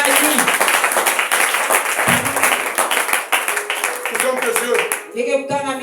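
A church congregation at a Sunday teaching and thanksgiving service breaks into sustained, dense applause and clapping, loud and close, with a voice speaking over it partway through.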